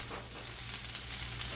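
Egg frying in an oiled pan for loaded fried rice, a steady broadband sizzle close by with constant crackle and low hum underneath, no talking.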